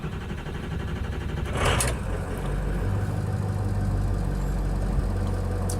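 A Ford 6.0 Powerstroke diesel engine cranks cold for a few seconds, then catches with a loud burst and settles into a steady, rumbling idle close by.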